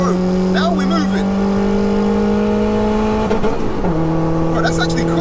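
A turbocharged 1-litre Nissan Micra pulls hard at full throttle, engine tone climbing steadily, dropping at a gear change and rising again, loud and close from inside the car, with occasional voices.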